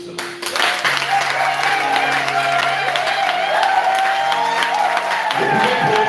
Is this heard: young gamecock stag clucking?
no